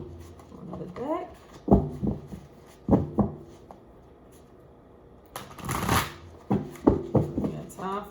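A deck of tarot cards is shuffled in a reading, with several close, crisp riffling bursts spread through the moment and a voice talking around them.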